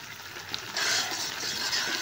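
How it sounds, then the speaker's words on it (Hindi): Gram flour being stirred into halwa in a pan, a soft continuous scraping and sizzling texture that grows a little louder partway through, with no voices. "और इसको मिक्स करेंगे अच्छे से और इसको पकाएंगे।"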